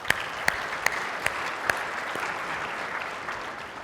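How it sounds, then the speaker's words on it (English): Steady audience applause at the DJI AirWorks 2019 drone conference honoring fire teams, a dense wash of clapping with a few sharper individual claps standing out near the start, holding evenly throughout. "So I just wanted to give a clap to all the fire teams here."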